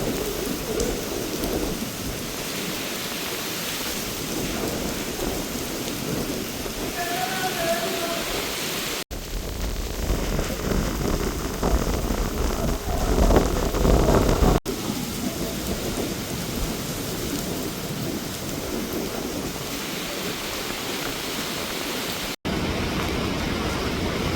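Steady heavy cyclone rain pours down in Jaffna with dense broadband hiss, swelling louder midway, with gusts and brief breaks; no one speaks.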